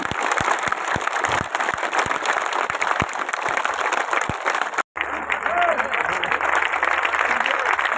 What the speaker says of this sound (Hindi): जोरदार तालियां बजाएंगे और यह तालियां रुकनी नहीं चाहिए